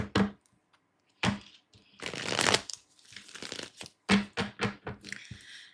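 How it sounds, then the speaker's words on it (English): Playing cards being shuffled in several quick bursts of riffling and flicking, with short pauses between, close up and without speech. "One more shuffle."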